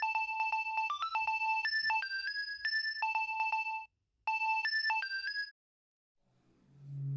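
A bright electronic phone ringtone plays a repeating melodic pattern twice, loud and close, then stops, followed by faint low rustling.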